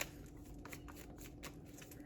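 Tarot cards are shuffled by hand in a steady, soft riffling rhythm, faint and close, with no talk.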